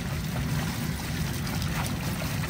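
Water runs steadily through a crawfish wash as live crawfish are rinsed, a loud continuous rushing wash with no pauses.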